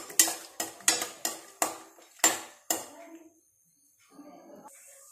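Seeds fry in ghee for motichoor laddu while a utensil stirs them, giving about seven sharp metallic knocks and scrapes against the pan in an uneven rhythm, followed by a pause and a faint rustle.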